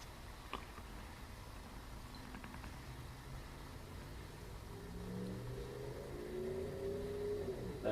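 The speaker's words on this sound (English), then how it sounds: "That is a motorcycle in the background." A motorcycle passes in the background at night, its engine rising and revving faintly in the distance under a steady outdoor hum.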